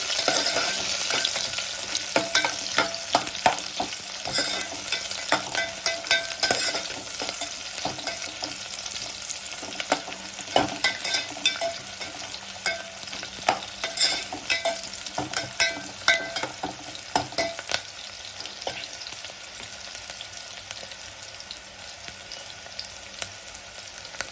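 Chopped onion and green chillies fry in hot oil for moong dal khichdi, a constant sizzle broken by frequent stirring clicks and scrapes of a spoon against the pan over about twenty-four seconds.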